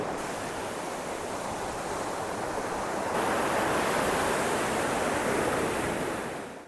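Sea waves wash continuously onto a beach near Kolkata backed by casuarina trees, a broad steady roar of surf that swells slightly louder midway, with no talking.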